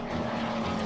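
Bomber aircraft in the Order of Battle game drones with a steady low engine hum, continuous and moderately loud, with no talk over it.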